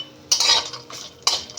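Raisins stirred in a metal pan, two sharp bursts of scraping and clinking a second apart, close and loud with no talk.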